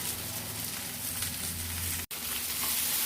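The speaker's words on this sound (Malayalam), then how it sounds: "തക്കാളിയൊക്കെ ഒന്ന് വെന്ത് വരുന്നതുവരെ നന്നായി ഒന്ന് വഴറ്റി കൊടുക്കാം." Onion, tomato and green chili sautéing in a pan for mackerel curry, a steady close sizzle with faint stirring and a brief cut to near silence partway through.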